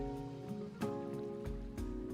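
An Icy Rain spell effect from the video game Eternaland gives a steady rain-like hiss over a sustained tonal music bed, with a few soft bursts.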